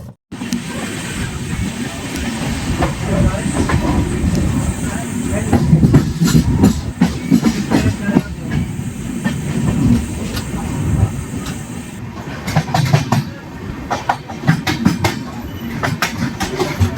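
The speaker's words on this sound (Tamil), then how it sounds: "சும்மா ட்ரெயினே பார்த்தீங்கன்னா செம்ம ஜெகஜோதியாக போயிட்டுருக்குங்க." The Chennai Central to Bhagat Ki Kothi (Jodhpur) Superfast Express, train 20625, rolls along with a loud steady rumble and rhythmic wheel clatter, heard from on board, with some talk mixed in.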